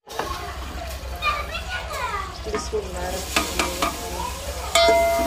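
Chopped onion hits hot oil for a village-style mutton liver and spinach dish, giving a steady frying sizzle. Children's voices and adult talk run over it, with a low hum underneath.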